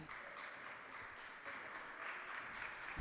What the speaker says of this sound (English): you got the Lions bench clapping, applauding